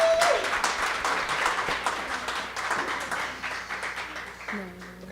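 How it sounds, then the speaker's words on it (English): Small audience in a coffee lounge claps for a live groove band after a song, a moderate patter of hands that gradually thins out, with brief voices and a hint of instrument tone at the end. "Can we give it one more applause?"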